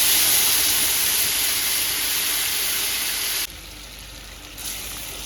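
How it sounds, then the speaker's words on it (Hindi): Tomato puree cooked with garam masala spices in hot oil, a steady loud sizzling hiss that drops abruptly in level partway through, then continues more quietly with a slight rise near the end. "फिर इसको कुक किया है थोड़ा सा ऑयल सेपरेट होने तक"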